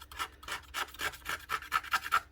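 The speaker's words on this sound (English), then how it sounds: "What you're doing is actually just scraping off this carbon buildup" A blade scrapes carbon buildup off a Paslode nail gun part on a flat tabletop in a run of about a dozen quick, rasping strokes, close and steady with no talking.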